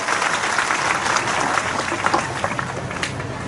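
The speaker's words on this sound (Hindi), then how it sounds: "जोरदार मुख्यमंत्री जी ताली बजा स्वागत करें" A crowd claps to welcome Chief Minister Bhupesh Baghel at a Bhent Mulakat public meeting in Thelka, Bemetara. The applause is continuous and slightly distant, with scattered louder claps and a few murmuring voices.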